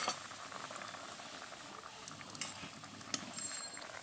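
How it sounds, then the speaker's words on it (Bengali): Water with potatoes bubbles steadily in a covered pot on the stove, a soft, continuous simmering patter with faint pops, close and quiet, with no one speaking. "আলুটা সেদ্ধ হওয়ার মতো জল দিয়েছি, ঢাকনা দিয়ে ঢেকে দেব যাতে আলুটা তাড়াতাড়ি সেদ্ধ হয়ে যায়"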